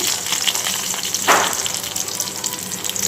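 Onion and bay leaves fry in a pan with a steady, loud sizzle that keeps going the whole time, with one brief rush of hiss where the pan is stirred midway.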